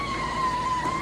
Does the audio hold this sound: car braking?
yes